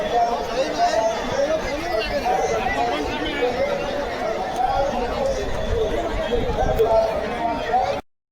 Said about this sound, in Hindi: भीड़ देखिए, दिखाते हैं आपको कितना ज़्यादा भीड़ है।